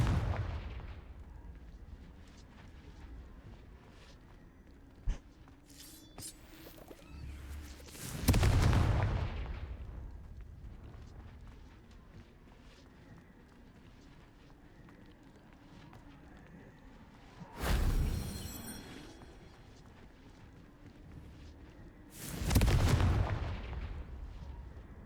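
Confringo spells in Hogwarts Legacy go off as several booming explosions, with three big blasts spaced through a quieter stretch of game ambience.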